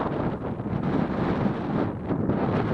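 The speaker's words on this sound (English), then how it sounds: "it's a shame that it's just so windy up here" Strong wind on a Lake District hilltop near Great Calva and Knott buffets the microphone in a continuous roaring gust, rising and falling slightly, with no voices heard.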